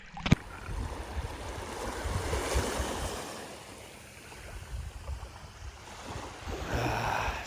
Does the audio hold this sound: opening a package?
no